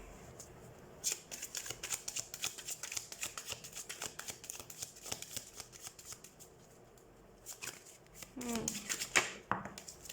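A deck of tarot cards is shuffled up close in repeated quick riffling bursts with short pauses between them. A voice is faintly heard near the end.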